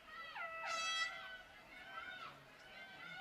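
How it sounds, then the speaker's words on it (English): A distant air horn blast with a wavering pitch sounds through crowd chatter at a sports game, followed by a second fainter blare a moment later. "And that's our air horn."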